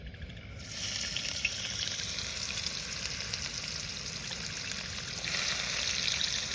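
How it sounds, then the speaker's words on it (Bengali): Onion dropped into a pan of hot oil after frying pangas and tengra fish, a sudden burst of steady loud sizzling that continues unbroken and swells slightly near the end. "এবার পেঁয়াজটা দিয়ে দেবো।"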